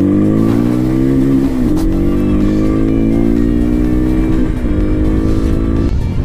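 A Vento GT 250 motorcycle engine drones steadily while riding, loud and close throughout, with two brief dips as gears shift and the revs climb again.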